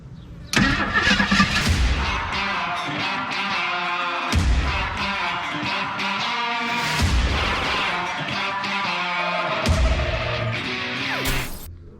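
1975 AMC Pacer being cranked repeatedly, several loud grinding starter bursts that catch into rough revving engine noise, each attempt cut off before the next, close and forceful.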